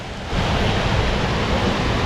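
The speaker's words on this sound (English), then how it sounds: "non-stop sound of running water" Steady roar of running water at Krka National Park, Croatia, a broad constant rush like a nearby waterfall that swells in after a brief quieter start.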